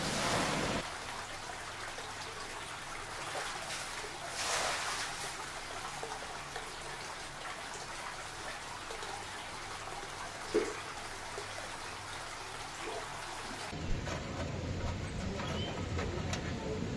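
A small river stream flows steadily along a road-trip path to a homestay on the way to the Netravati trek, a continuous close wash of water lasting throughout with brief louder splashes near the end.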